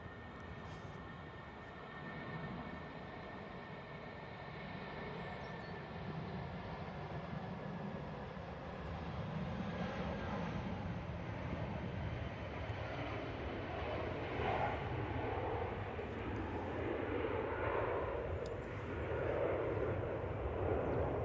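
C-17 military aircraft at Manchester Airport, a faint, steady engine drone heard from a distance that swells slightly louder as it goes on, with a low rumble and no voices.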